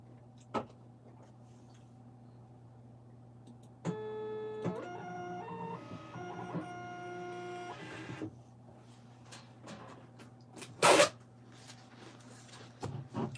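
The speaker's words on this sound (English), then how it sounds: "just printing this label here real quick" A label printer runs through a shipping label in a few seconds of stepped whirring and motor tones, with a click before and a brief sharp burst of handling noise afterward in a quiet room.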